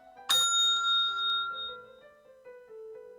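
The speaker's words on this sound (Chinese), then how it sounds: "每次听到铃声" A bell at a food inspection exam station signals the move to the next item, one bright ding that rings out and slowly fades alone.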